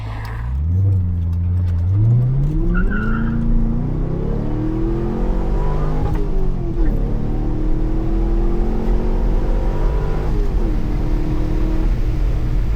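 A C5 Corvette convertible with a manual gearbox accelerates from inside the cabin, its engine climbing through revs, dropping at each shift and blipping on downshifts, loud and continuous.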